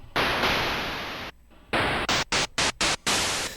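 Bursts of harsh white noise from the Native Instruments Massive synthesizer hiss on and off, first a long sustained wash, then a series of short choppy gated pulses.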